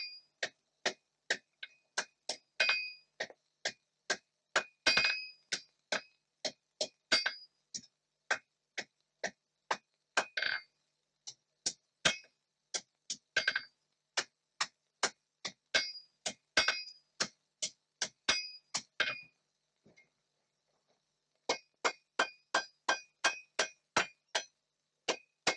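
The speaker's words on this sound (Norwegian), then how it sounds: "Til dette brukes min liten hammer, kjøhammer." A small hammer strikes the curved end of a scythe blade being forged in a traditional Norwegian smithy, ringing metallic blows in a steady rapid rhythm with a brief pause before the striking resumes, close and loud, no talking.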